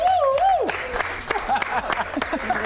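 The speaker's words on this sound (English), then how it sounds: "You should clap for that." Scattered clapping and a few cheers from a small group in a backyard, starting after a sung or whooping voice and continuing as light, uneven claps with some talk mixed in.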